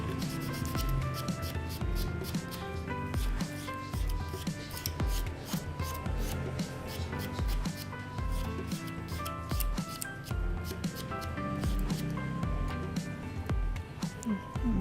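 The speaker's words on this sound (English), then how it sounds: "And then go back in and buff it. Make sure it's nice and even." A buffer rubs dipping powder on an artificial nail tip, giving a steady, rapid scratchy rasp of repeated short strokes, close up and continuous, with no talking.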